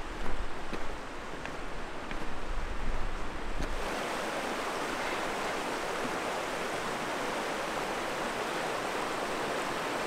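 Glacial river at Solheimajökull rushing in a steady, loud broadband roar of fast water, with wind buffeting the microphone early on before the flow settles into a continuous, uniform wash close by.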